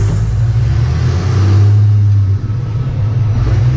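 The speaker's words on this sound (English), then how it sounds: "this truck's loud" A first-generation Cummins diesel truck engine revs loudly and close up. Its deep, heavy rumble swells and then eases slightly, with no voices.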